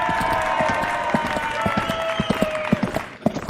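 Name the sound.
crowd cheering at Tiki Oasis event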